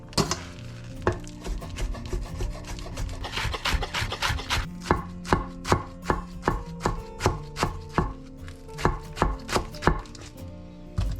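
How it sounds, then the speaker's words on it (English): Thin slicing of spring onion with a kitchen knife on a board while preparing sweet corn and courgette fritters, a steady run of crisp, close chopping taps that speeds into an even rhythm, with no talk. "Gonna slice some spring onion,"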